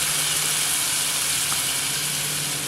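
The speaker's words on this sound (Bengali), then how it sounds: "তৈরি করে রাখা মশলাটা এখন আমি দিয়ে" Ready-made spice paste for chhanar kofta curry hits hot oil with whole garam masala and sends up a loud, steady, broadband sizzle that fills the whole stretch without pause.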